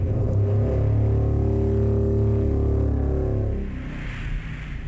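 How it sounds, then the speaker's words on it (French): A drill-like demon sound effect from the PS2 game Daemon Summoner, a loud sustained mechanical whine and rumble that holds steady for several seconds, then drops off and fades near the end, with no talk. "Ils ont mis ce son pour faire le bruit d'un démon."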